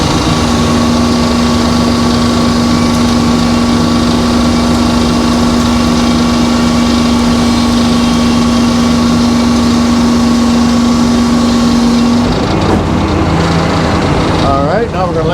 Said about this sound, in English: I do like the way this blade saws